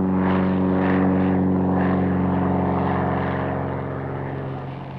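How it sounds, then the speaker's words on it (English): A pre-war propeller airplane performs aerobatics at the old Tempelhof Airport in Berlin, its engine droning loudly and steadily with a wavering pitch, slowly fading toward the end. "This is pre-war ace pilot Ernest Udet doing aerobatics at the old Tempelhof Airport"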